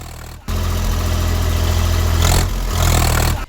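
A farm tractor used for ploughing a sugarcane field runs with a loud, close, steady engine roar. The sound cuts in abruptly and dips briefly midway before holding strong again.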